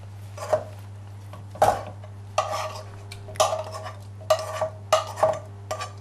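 Mushrooms go into a cheese sauce in a pan, making a series of irregular clinks and scrapes from a utensil against the pan, close and fairly crisp, amid quiet background hum.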